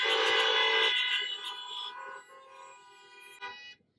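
Car horns honk together at an outdoor assembly, a loud sustained blare that fades in stages, with a brief final toot before cutting off.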